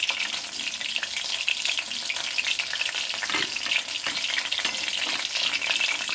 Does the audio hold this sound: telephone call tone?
no